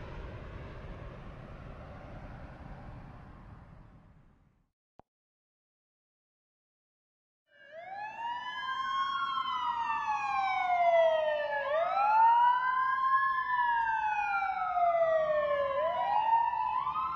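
After a low rumble fades into brief silence, an emergency siren wails in repeated rising and falling sweeps, loud and close.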